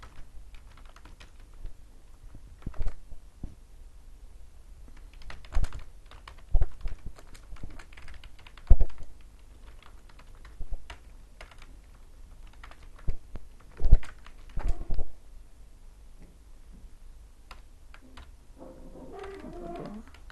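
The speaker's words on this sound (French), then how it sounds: "Voilà le nombre tapé" Scattered keystrokes as a number is typed on a computer keyboard, sparse clicks in short bursts with quiet gaps between, close and fairly soft, no talking.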